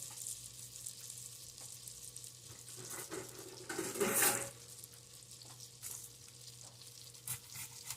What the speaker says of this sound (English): I love that sizzle noise.